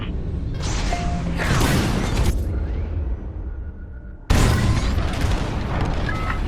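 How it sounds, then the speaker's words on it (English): Bombs dropped during a raid in Star Wars: Squadrons burst in heavy, broad explosive roars, one long rumbling blast followed after a brief lull by a second loud detonation, with no voices. "On my mark, it's bombs away."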